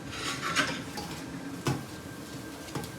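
Wheat flour being mixed by hand with oil and salt in a bowl for a stiff dough, giving soft scraping and rubbing with a few sharper knocks against the bowl, close and alone.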